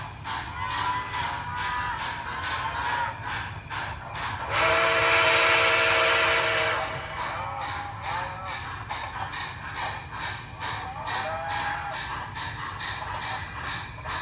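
An MTH Berkshire model steam locomotive runs with steady chuffing and rail clatter, with a loud whistle blast partway through.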